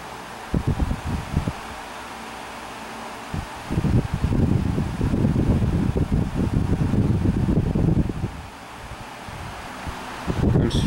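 A Windmere pedestal fan on medium speed gives off a steady airy whoosh, with bursts of buffeting wind noise against the microphone rising and falling close up.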